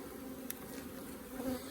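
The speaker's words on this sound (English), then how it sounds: "Nice lot of bees." Steady low buzzing of many honey bees around a hive, continuous and close, with a few louder passes swelling near the end.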